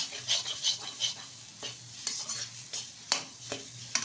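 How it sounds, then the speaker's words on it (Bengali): A spoon scrapes and stirs a jackfruit seed mixture in ghee in a pan for a sweet sandesh, with soft sizzling under rhythmic scraping strokes and a few sharper clinks against the pan. "ঘিয়ের কিছুক্ষণ কিন্তু নেড়ে চেড়ে নিয়েছি"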